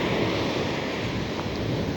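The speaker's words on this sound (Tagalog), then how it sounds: "Lakas kasi ng alon." Strong ocean waves surge and wash steadily along a shore during a beach outing, a dense, continuous roar mixed with wind buffeting the microphone, with no clear breaks between swells.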